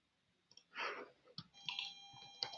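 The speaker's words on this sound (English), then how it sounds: "So I start typing" Several bursts of keyboard typing and clicking on a computer keyboard, close and fairly quiet, with brief pauses between keystroke clusters.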